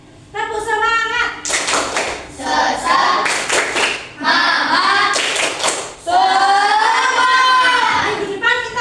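A class of children performs a rhythmic spirit clap, with chanted voices between bursts of loud, patterned hand clapping; the group chant and clapping alternate across the whole stretch.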